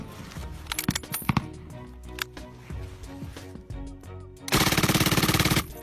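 A general-purpose machine gun, the British L7A2 firing 7.62 mm rounds, lets off scattered loud shots and short bursts, then a long rapid sustained burst of automatic fire near the end, close and loud with no talk.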